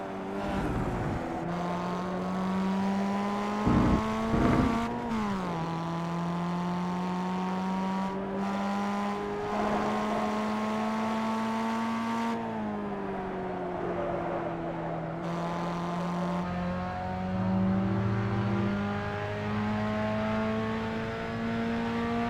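A race car in a production car challenge accelerates out of the final corner at Okayama on a qualifying lap, its engine note rising and falling steadily through gear changes. It stays loud and close throughout, with brief sharp bursts near the start.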